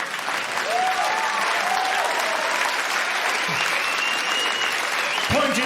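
Audience applause at a British stand-up comedy show: a dense, steady wash of clapping from the crowd that holds at full strength for several seconds, with a few faint voices inside it.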